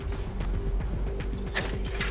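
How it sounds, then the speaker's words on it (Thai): Rhythmic creaking and ratcheting of a grappling rope straining under load in the video game Far Cry 4, repeating steadily with a brief whooshing swing toward the end. "นี่คือเสียงการโหนใช่ไหม"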